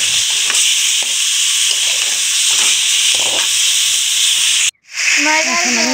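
Fish with whole cumin seeds fries in hot oil as it is stirred lightly, making a loud, constant hiss and sizzle with scraping stirs, a brief cut-out near the end, then more sizzling.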